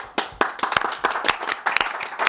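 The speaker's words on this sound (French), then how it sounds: "Les applaudissements." Small group applause in a television studio, with a few people clapping briskly and irregularly, close and fairly loud for a couple of seconds.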